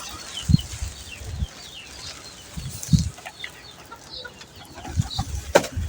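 Chickens clucking softly in the sun while pecking at scattered vegetables such as cabbage and water spinach, with short low clucks and occasional sharper calls spread across a quiet background.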